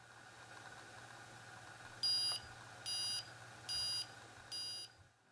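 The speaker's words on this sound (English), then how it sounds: "you press down the button and you're going to hear some beeps" Spy camera glasses give four short, evenly spaced electronic beeps as recording begins, sharp and fairly loud over a steady low background hum, then fall silent.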